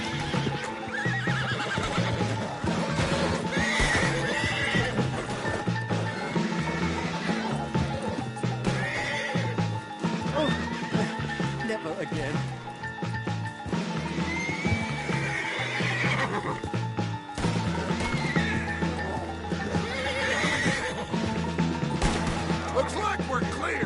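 A horse in a PS4 video game whinnies repeatedly over rhythmic clip-clopping hooves, with game music and occasional voices blended underneath throughout.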